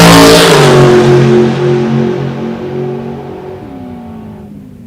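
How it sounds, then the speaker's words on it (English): A drag racing car launches off the starting line at a dragway, a loud roaring engine burst that peaks at once and then fades steadily as the car pulls away into the distance. "Famous Robert Hayes walking off the starting line."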